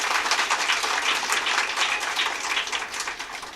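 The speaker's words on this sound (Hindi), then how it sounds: "एक बार ज़ोरदार तालियां इनके लिए।" Sustained, dense applause from an audience at an International Women's Day felicitation and prize distribution event, loud and steady throughout with no pauses.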